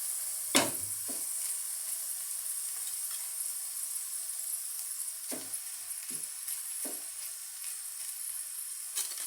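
Cooked rice being added to a hot pan of beans and carrots for fried rice, a steady loud sizzle with a few sharp stirring knocks and scrapes, close and without speech.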